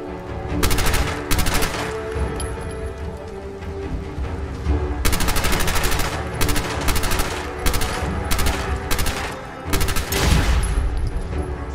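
Bursts of automatic weapon fire in the post-apocalyptic video game Fallout 4, with rapid rattling volleys repeating in several separate clusters over a rumbling game backdrop.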